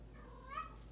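A house cat gives a single short meow near the microphone, rising briefly over a quiet indoor background with a low steady hum.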